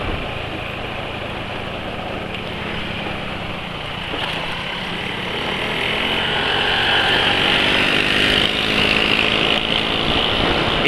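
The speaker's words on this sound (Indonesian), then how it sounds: "Bisa denger nggak suara mesinnya?" A motorcycle engine overdue for an oil change runs steadily in a busy spot with other motorcycles nearby, a continuous broadband mechanical roar that grows louder after the midpoint. No one speaks.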